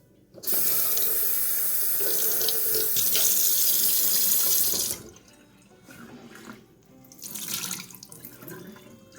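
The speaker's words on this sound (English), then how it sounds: "I'm also going to give them a rinse with some fresh water." Fresh tap water runs steadily into a glass jar to rinse sprouting seeds, a loud, close hiss and splash lasting several seconds, then stopping before softer swishing and sloshing as the jar is shaken.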